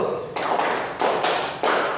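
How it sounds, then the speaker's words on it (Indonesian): An elementary school class claps in unison at SD Negeri 3 Tanrutedong, producing three sharp group claps evenly spaced about two-thirds of a second apart, each a loud crowded burst that fades into light room noise. "Tepuk satu."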